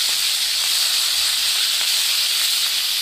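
Curry leaves roasting in hot oil for tomato chutney give a steady, loud, close hiss that holds evenly throughout with no talk.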